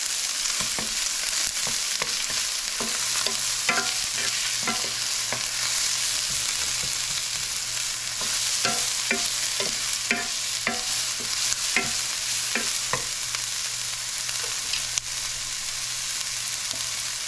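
Mushrooms frying in olive oil are stirred in a pan, producing a constant bright sizzle dotted with frequent spatula taps and scrapes, close and continuous with no voices.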